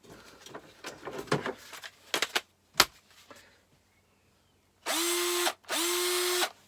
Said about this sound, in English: We've had the drill on charge for a while